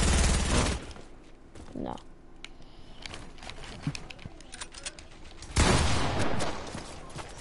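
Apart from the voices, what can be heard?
laser weapon firing in a video game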